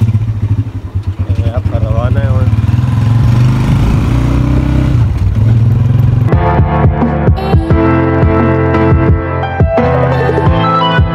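Tractor engine close by, revving with a clattering, fluctuating drone, then pulling away as the sound shifts. Someone speaks over it briefly.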